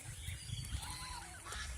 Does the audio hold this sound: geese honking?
yes